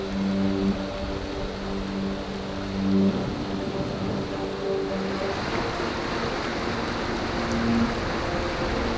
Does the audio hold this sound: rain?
yes